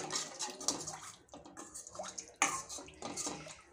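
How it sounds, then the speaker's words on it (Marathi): A glass of water poured into curry gravy in a home kitchen, heard as splashing, gurgling pours in uneven bursts with brief pauses, fairly close. "इथे 1 ग्लास मी पाणी टाकत आहे"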